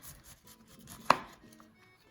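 A knife slicing through a head of cauliflower to cut it into thick steaks, with one sharp crunching chop landing on the board amid faint background noise.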